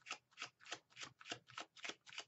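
Tarot cards are riffled and shuffled by hand in a steady rhythm of about eight crisp, papery bursts, close and fairly quiet with no talking.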